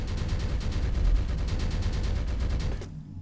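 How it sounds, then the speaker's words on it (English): Sustained rapid machine gun fire in Alien vs Predator 2, a dense, loud burst of evenly spaced shots lasting nearly three seconds before cutting off abruptly. "I don't like machine guns."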